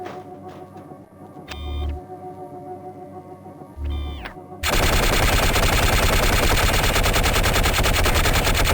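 Sustained automatic gunfire from a weapon on a firing range in the video game Gunman Chronicles, loud and continuous in the second half, preceded by a few brief mechanical whirring bursts over a low game hum.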